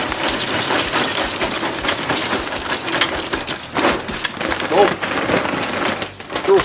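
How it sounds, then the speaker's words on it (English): Fresh lump charcoal tumbles and rattles into a Big Green Egg grill over old coals and wood chips, a loud, dense run of clattering, crunching pieces. "I'm gonna throw some new coals."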